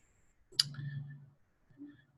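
A single sharp mouse click sounds close and clean in a quiet room, followed by faint low handling noise and a softer second tap.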